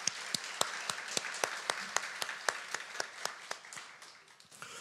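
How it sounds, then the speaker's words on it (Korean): A congregation at a New Year's Eve church service claps in a steady, even rhythm, about three sharp claps per second, sounding somewhat distant and fairly quiet, gradually thinning toward the end. "우리 하나님께 영광의 박수 올려드리겠습니다"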